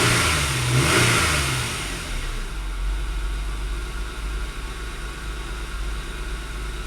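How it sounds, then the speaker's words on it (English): A 1997 Nissan Maxima engine with a rough idle revs up close by for about two seconds, then drops back to a steady, low idle drone. "I'll rev it up a little bit."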